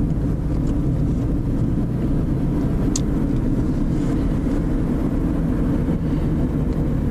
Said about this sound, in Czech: Je v tom autě podstatně větší hluk než v Outbacku